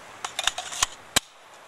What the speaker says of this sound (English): Just engage your magazine under here. Mag comes out.